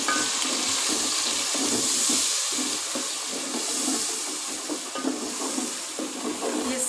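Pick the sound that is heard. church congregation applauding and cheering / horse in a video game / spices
spices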